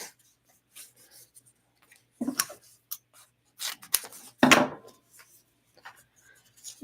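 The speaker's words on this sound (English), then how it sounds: "maybe I'll cut a little bonus piece from the other scrap here." Scissors snipping a scrap piece of material, a few close, sharp crunching cuts in irregular bursts separated by quiet pauses.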